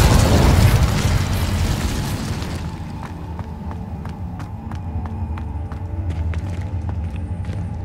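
A fire spell cast in Hogwarts Legacy: a loud, near fiery whoosh and burst for the first few seconds, then a crackling game ambience with scattered sharp ticks and light footsteps, no speech.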